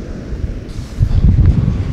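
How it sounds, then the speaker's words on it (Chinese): Strong early-morning wind at Selin Co lake in Tibet buffets the microphone in low, rumbling gusts that swell louder in the second half, with no voices. "这大清早怎么这么大风啊"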